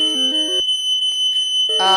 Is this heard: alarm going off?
yes